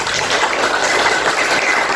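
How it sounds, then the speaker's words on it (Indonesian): A classroom group claps together in continuous, even applause, a busy close patter lasting the full two seconds with no voices over it. "Tepuk tangan."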